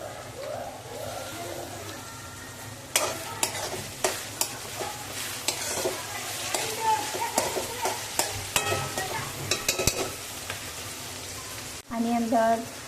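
Onion, garlic and green onion for bhaji sauté in a pan with a steady sizzle and repeated sharp spatula scrapes, while a voice talks now and then and birds coo faintly.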